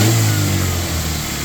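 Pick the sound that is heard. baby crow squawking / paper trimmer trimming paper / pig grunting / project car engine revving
project car engine revving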